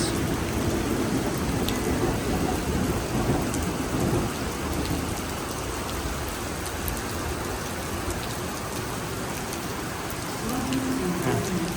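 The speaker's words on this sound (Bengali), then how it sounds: "গাইস, বৃষ্টি আর বেড়ে গিয়েছে, প্রচুর পরিমাণে বৃষ্টি হচ্ছে।" Heavy rain pours steadily at Sydney's Redfern train station, a dense, continuous hiss with low rumbling underneath, loud and unbroken throughout with no talk.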